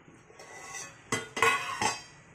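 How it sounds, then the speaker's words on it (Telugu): A lid goes onto a cooking pot of leafy white galijeru dal, making a few close metallic clanks and clinks of pot and lid spread over a couple of seconds. "ఇప్పుడు దాని మీద ఇలా చక్కగా మూత పెట్టుకుందాం"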